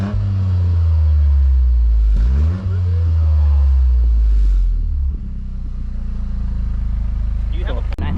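A 2024 Toyota GR Corolla Premium's engine rumbles loudly and steadily through its tri-spoke exhaust, with a couple of revs rising and falling in pitch and exhaust burble underneath.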